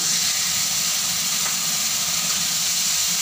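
Water splashed onto spices frying in a pan for a fish head and pumpkin ghonto sets off a loud, continuous sizzle and hiss, steady and close throughout with no voices.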